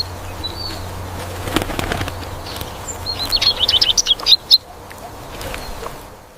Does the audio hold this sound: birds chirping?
yes